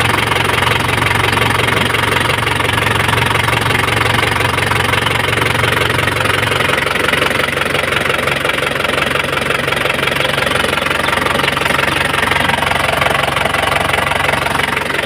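A 2003 vehicle's diesel engine idles close by with a loud, steady knocking clatter and rumble, running continuously without pause.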